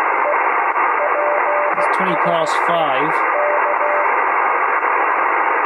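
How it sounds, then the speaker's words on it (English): German amateur radio station received on an 80 m four square antenna: a faint voice through loud steady band hiss and static, with a brief heterodyne whistle. "I can hear that German station quite clearly on the four square"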